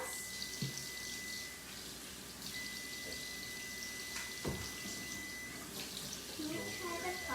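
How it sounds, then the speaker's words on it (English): Tap water runs steadily into a kitchen sink as a tablespoon used for lemon juice is rinsed, a continuous close splashing hiss with a few clinks of the spoon. "So I'm just gonna rinse off this tablespoon really fast."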